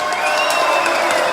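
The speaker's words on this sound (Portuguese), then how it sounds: "Uma salva de palmas ao maior jogador da história do Esporte Clube Internacional" A crowd at a football club gathering claps and cheers together, a dense wash of applause with whoops lasting briefly and evenly loud throughout.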